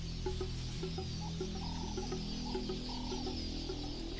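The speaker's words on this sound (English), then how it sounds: "The noise of the nesting weaver birds provides cover." Many nesting weaver birds chatter and chirp busily in a steady chorus over a low background hum near a river mouth, with no voices.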